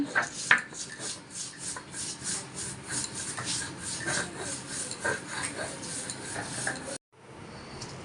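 Hilsa fish being ground into paste on a grinding stone makes a rhythmic rasping scrape, stroke after stroke, close up and moderately loud, before cutting off abruptly near the end.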